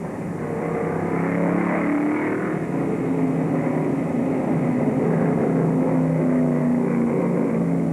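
Stock race cars at the 1968 Daytona 500 NASCAR Grand National race roar steadily throughout, a dense continuous engine drone with shifting pitch, loud and without speech.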